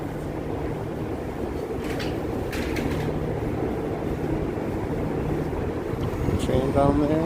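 A subway train rumbles by beneath Broadway at East 21st Street in New York City on a windy evening, a low, continuous roar under wind noise and street ambience that swells slightly toward the end.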